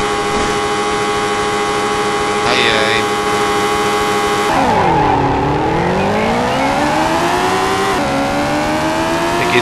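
A rally car in Mobil 1 Rally Championship on PC accelerating hard, its loud engine rising through the gears with a clear shift, dipping and then climbing again, with tire noise and a co-driver's voice underneath.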